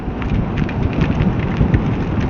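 Rain pours down on a motorcycle ride, a dense, steady hiss of drops with uneven patter and surging wind noise, close and fairly loud, with no talking.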